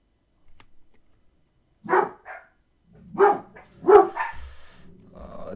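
Several dogs barking in a burst of loud, close yaps and woofs with short pauses, heard indoors during kitchen preparation with no talk over them.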